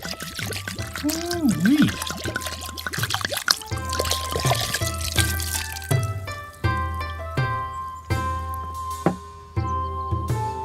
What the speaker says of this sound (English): let's mix in our berry wine